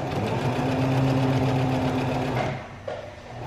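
A sewing machine runs steadily for about two and a half seconds while stitching a cloth face mask, its close, even motor whir stopping abruptly, followed by a faint clunk and quieter handling.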